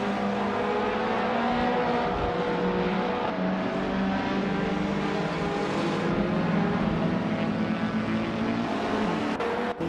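A racing car, a 1966 Chinook Mach 2, drives in a video game race with other cars. The engine drone is loud and steady and never stops, with a dense wash of overlapping engine noise throughout.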